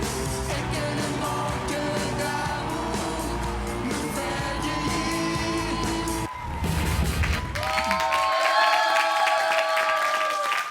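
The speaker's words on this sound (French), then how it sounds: "Tonnerre d'applaudissements pour les Berciers" Studio audience applause and cheering at a French family singing television show, a dense continuous roar that dips briefly, then resumes with music-like tones over the clapping.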